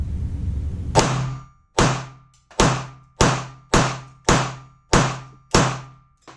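A Glock G43 slide fitted with a Taran Tactical magazine extension snaps back sharply eight times in an even rhythm, each a loud, close metallic clack ringing out between strokes.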